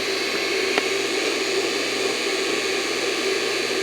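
A surface grinder runs with a steady, even whine and hiss close by, constant throughout with one faint click, no talking.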